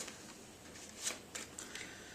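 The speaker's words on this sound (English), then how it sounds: "Give the deck a quick shuffle." A deck of playing cards is quickly shuffled at close range, a faint soft riffle with a few light flicks over about two seconds.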